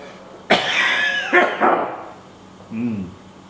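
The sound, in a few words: cough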